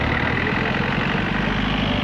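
A 1946 Bedford Buffalo tipper lorry with a 28 hp petrol engine runs at a steady, loud, close idle, with a low rumbling drone throughout.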